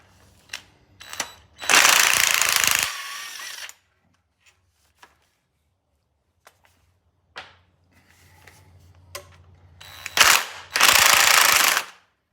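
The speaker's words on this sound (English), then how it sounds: "Just gonna want to back all these bolts out, and these headers should come right off." An impact wrench rattles in two loud, sustained bursts a few seconds each, backing out the bolts on LS long tube exhaust headers, separated by quiet stretches with faint clicks and clunks.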